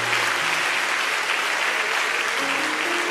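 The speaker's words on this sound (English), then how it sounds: "Let's clap our hands unto the Lord." Church congregation clapping in praise, a dense, steady wash of applause from many hands that holds at full loudness throughout, with faint voices underneath.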